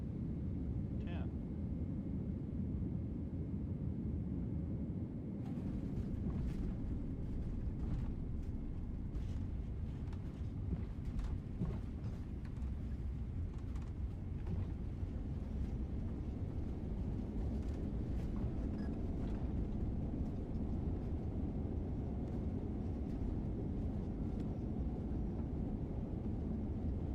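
A PMDG 777-200ER in a flight simulator game rolls out after landing with thrust reversers deployed, giving a steady, loud, low engine roar that runs through the whole stretch, with faint speech over it.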